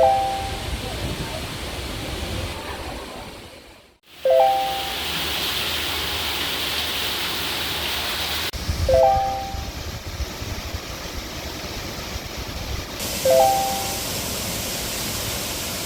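The Yongma waterfall pours beneath a huge rock mountain, a loud, constant broadband roar of falling water with a brief cut in the middle and faint tonal sounds recurring over it.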